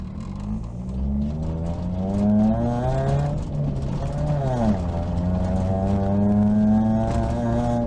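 A Suzuki Swift Group N rally car at a rally school, its engine droning steadily from inside the cabin and rising and falling in pitch as the driver accelerates and eases off, loud and continuous with no talking.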